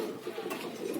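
A pigeon cooing close by, a short soft series of low burbling coos lasting about a second, faint and alone.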